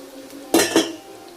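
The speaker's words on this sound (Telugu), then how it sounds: "ఇవన్నీ తీసి ఇదిగో పొంగల్లో వేస్తున్నాను" Fried ingredients tipped from a metal pan into a pot of pongal, two quick clanks of metal on metal close by, then quiet.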